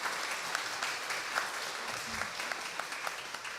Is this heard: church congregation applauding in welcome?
yes